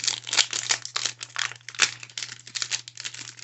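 Trading card pack wrappers for 2022-23 Select Soccer Premier League being torn open, a close, busy run of sharp crinkles and rustles in quick irregular bursts.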